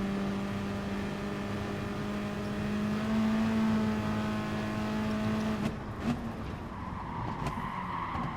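Race cars in GT Sport run in a close pack, one engine holding a steady high drone that then breaks into shifting, revving tones as the field jostles, loud and continuous with no talk.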